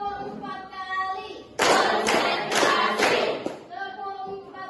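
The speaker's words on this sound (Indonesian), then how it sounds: "Tepuk 4 kali." A group in a classroom claps hands four times in a loud, tightly synchronized burst, with a teacher's voice speaking before and after.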